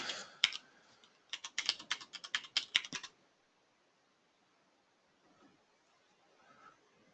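Computer keyboard keys clack in quick bursts as an IP address is typed, close and crisp, a short flurry followed by near silence.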